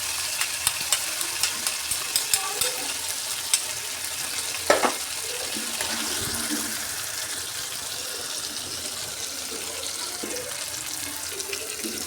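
Boiled gongura leaves go into a pan of softened, well-cooked tomato, giving a low continuous sizzle with scattered stirring clicks and scrapes and no talking.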